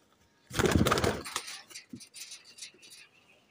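Pigeons of the Teddy Golden type coo softly in a loft, with a burst of louder bird sound and rustling near the start followed by several faint, intermittent calls.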